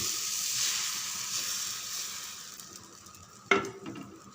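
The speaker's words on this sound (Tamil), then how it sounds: "மாவு நல்லா கலந்து விட்டு அப்படியே ஊற்றின மாதிரியே விடுங்க" Rava dosa batter on a hot dosa griddle gives a steady, close hissing sizzle that fades slightly, then a sharp metallic clink of a utensil near the end.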